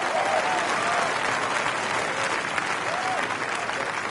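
A golf gallery applauds a made birdie putt at Wolf Creek. The clapping is loud and steady and runs throughout, with light crowd voices mixed in.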